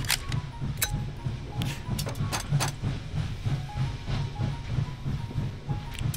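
Continuous rumble and clickety-clack of a moving train in the VR game H3VR, with hissing and scattered sharp bursts over a steady low drone, heard alone without talk.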